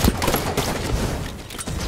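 Shotgun blasts in a Halo match, several heavy booming shots in quick succession amid busy game noise.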